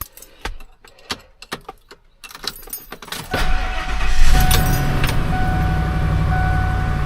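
A 1996 Ford F-150 pickup truck starting up after an oil change: keys jangle and clicks come first, then the engine cranks and catches, settling into a steady, fairly loud idle close by.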